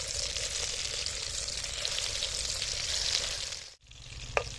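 Chicken satay fries in a pan with a steady, close sizzle, briefly cut off near the end before resuming, with one sharp clink.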